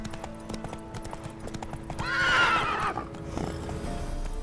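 Roach, the horse from The Witcher 3, gallops with rapid rhythmic hoofbeats and lets out a loud whinny midway, moderately close and with no talk over it.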